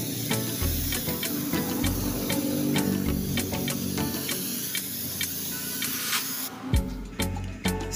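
Chameleon paint is sprayed in full coats over a black base coat, giving a sustained, close aerosol hiss broken by short pauses and faint ticking.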